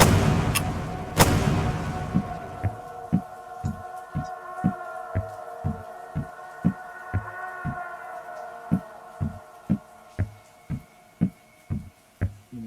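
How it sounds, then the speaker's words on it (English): A pistol fires in a video game under development: two sharp shots at the start, then a long, steady series of evenly spaced dull thumps over a sustained electronic hum. "See the pistol functionality is working as intended. The distance the bullets can travel is a lot greater."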